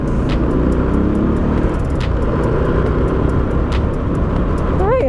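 Heavy highway traffic near Baliwag, on the road from San Miguel, makes a loud, continuous roar of engines and tyres close by, with a few sharp high chirps breaking through near the end.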